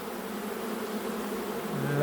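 A swarm of honey bees buzzes continuously, a dense close hum of many wings that holds steady and grows slightly louder at the end.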